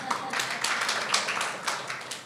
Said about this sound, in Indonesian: tepuk tangan dong buat abang ya.